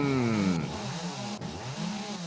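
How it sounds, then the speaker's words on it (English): A chainsaw in the video game 7 Days to Die revs loudly, its engine pitch sweeping down and rising again in two surging cycles, close and alone without talk. "Grand Spartan has too much fun with the chainsaw, with the power tools."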